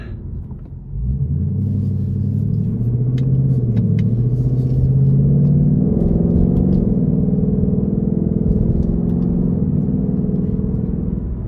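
A 2023 Ford Mustang GT Premium with a 450 hp 5.0 V8 rumbles through stop-and-go traffic, its low exhaust note swelling as power comes on and easing as the throttle lifts, steady and close throughout.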